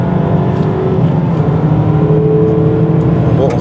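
Mazda MX-5 accelerating hard on a race circuit, its engine a steady close droning roar with a rising pitch, heard from inside the car and running the whole time with no pause.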